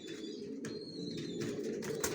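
Racing pigeon chicks coo faintly in a low, steady murmur nearby, with no talking.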